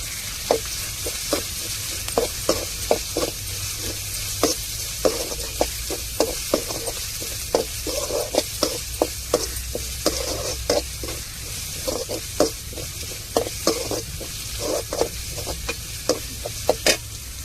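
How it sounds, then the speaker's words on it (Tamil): Grated coconut is sautéed with ginger and garlic in a pan, a continuous sizzle broken by a steady run of sharp spatula scrapes and taps, close and fairly loud, with no talking. "கொஞ்சோண்டு தேங்காய் சேர்த்து வதக்கி விட்டுக்குருவோம்"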